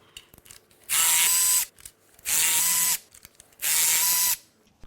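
Three loud bursts of a power ratchet-type tool spinning out Torx bolts on a Porsche Boxster S M96 engine block, each about a second long with short pauses between, close and alone.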